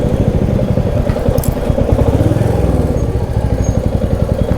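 A Meteor 350 motorcycle rides over a bridge in Sikkim, its single-cylinder engine thumping loud and close in a steady rapid beat, with a brief clatter partway through.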